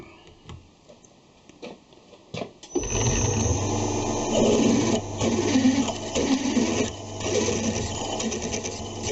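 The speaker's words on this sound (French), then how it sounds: "J'aime mieux percer par plusieurs forêts." A milling machine drills holes in metal, stepping up through several drill bits. A few light clicks and taps come first, then the motor starts and a loud, steady mechanical hum runs with grinding and cutting noise.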